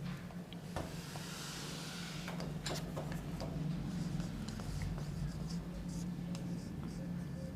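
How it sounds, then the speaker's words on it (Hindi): Marker or chalk writing on a board in a classroom lesson, scratchy strokes and taps spread across a steady hissing room background, fairly faint and continuous, with no clear talking. "थोड़ा नीचे लिख देता हूं मैं इसको"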